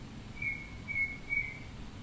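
Three short, thin bird chirps ring out outdoors at a moderate distance, evenly spaced over a low, steady background murmur.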